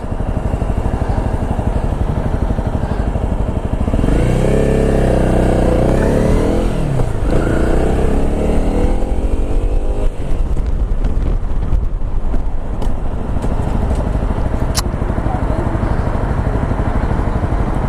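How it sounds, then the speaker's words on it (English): An off-road motorcycle engine revving in first gear while riding in the rain, loud and close, with pitch sweeping up and down through several rises amid heavy wind noise. "First gear's not very tall on her, but I suppose for an off-road bike that's what you'd expect."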